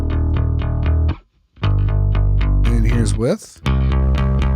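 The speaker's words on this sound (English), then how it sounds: "we've got just a little bit of Decapitator, giving us what I imagine is a fair amount of distortion" A pop music track run through a Decapitator distortion plugin: a clean pulsing synth-and-bass passage, then a short spoken line, then the same passage returning fuzzier and more saturated.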